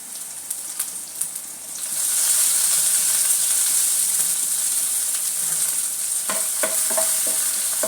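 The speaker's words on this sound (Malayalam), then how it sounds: "കടുകിട്ടോ, കുറച്ച് വെളുത്തുള്ളി ഒന്ന് മൂക്കണം." Mustard seeds and garlic frying in hot oil for a curry, starting with a few pops and then settling into a loud, steady sizzle with sharp crackles near the end.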